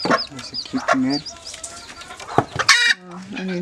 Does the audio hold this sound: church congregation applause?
no